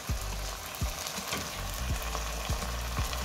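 Prawns cook in a pan with stock gel, a continuous close sizzle and bubbling broken by repeated scraping stirs at a steady, unhurried pace.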